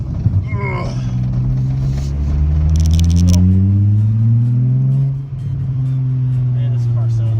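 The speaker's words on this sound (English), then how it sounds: "I'm gonna rev match again" A VR6 car engine revs up in a rising, throaty climb while rev matching, dips sharply, then settles back into a steady hum while driving.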